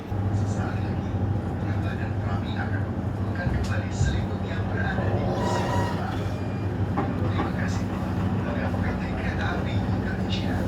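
An overnight business-class passenger train from Pasar Senen to Surabaya rumbles along the rails with a steady low roar and occasional clunks, interior-sounding, with faint voices in the background.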